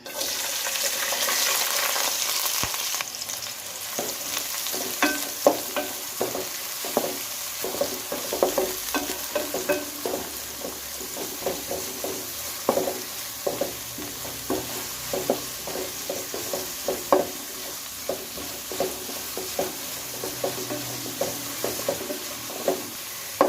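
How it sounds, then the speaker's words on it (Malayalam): Two small onions sautéing in oil for a home-style kappa biryani, a soft sizzle under a long run of regular scraping stir strokes from a spoon against the pan, close and without speech. "ഇതൊരു 2 ചെറിയ സവാളാണ്. ഇതൊന്ന് നമുക്ക് വഴറ്റിയെടുക്കാം ആദ്യം"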